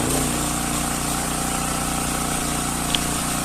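Portable petrol generator engine running steadily at its factory-set speed of about 3,600 rpm, a constant close drone with no variation and no voices over it.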